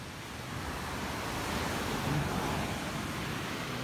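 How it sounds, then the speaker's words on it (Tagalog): Sea surf at Baler, Aurora, a steady broad wash of waves on the shore heard close and continuous, with wind noise and no voices. "Yan na po yung dagat."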